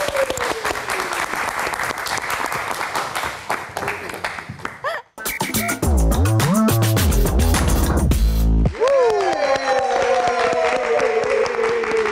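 Audience applause and cheering after a live performance of a song on the Meet Nite Live stage show, loud crowd clapping with bursts of music and a host's voice breaking in partway through.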